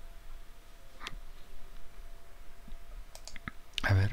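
A computer mouse clicks a few times while working in GeoGebra: sharp, quiet clicks spread across a few seconds over low room hiss, followed by a short burst of voice at the end.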